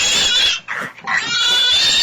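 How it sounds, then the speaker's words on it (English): A pig oinks and grunts in a few close, loud bursts with a brief pause in the middle, alone without any talk. "Pig,"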